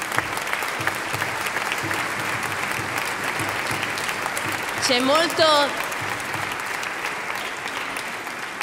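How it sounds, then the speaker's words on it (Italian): Concert audience at an academic-year inauguration applauding the musicians' parents, sustained clapping throughout with a voice speaking briefly over it partway through. "E l'applauso è per voi, per tutti i genitori"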